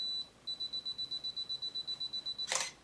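DSLR self-timer beeping in a steady rapid series of about fifteen short, evenly spaced high beeps, ending with a brief burst of shutter noise, close and clear in a quiet room.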